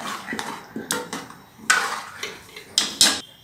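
Mashed vegetables for street-style pav bhaji being mixed in a pan, giving a series of sharp, irregular clinks and scrapes of a utensil against metal, close and fairly quiet, with no talk.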